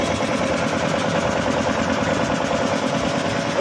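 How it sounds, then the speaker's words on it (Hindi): A 1 hp double-piston air compressor driven by a single-phase Godrej motor runs steadily and loudly up close, a dense rapid mechanical chatter with a constant hum and no pauses. "का कंप्रेसर है, एक एचपी डबल पिस्टन, एक एचपी का गोदरेज का मोटर है सिंगल फेस"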